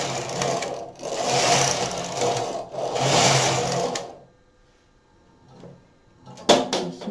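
A knitting machine carriage runs across a row of stockinette stitch, producing three loud mechanical whirring passes, each lasting about a second, then near silence and a couple of sharp clacks at the end.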